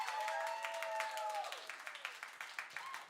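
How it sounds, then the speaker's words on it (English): An audience claps and cheers at an EP release show, with some voices rising over dense applause that thins into scattered, rhythmic claps toward the end. "Can we give a round of applause for Alec Barber Cinemark?"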